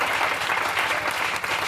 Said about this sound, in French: Viens pour t'acclamer très fort Jésus-Christ